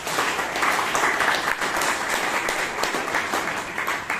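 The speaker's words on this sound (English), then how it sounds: "Please give the committee a big round of applause." An audience at a Toastmasters club meeting in Bangalore applauds, loud and sustained clapping from many hands filling the whole stretch without a break.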